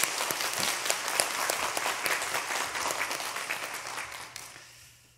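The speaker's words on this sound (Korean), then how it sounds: "우리 감사와 사랑과 격려를 담아서 우리 박수로 또 격려하겠습니다." A Korean church congregation applauds in thanks for volunteers during a Sunday service, dense clapping at moderate volume that fades out near the end.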